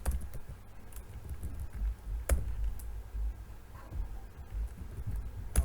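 Typing on a computer keyboard while setting up custom objects in Salesforce: soft, uneven clicks and patter over a low room hum, with a couple of sharper key strikes standing out.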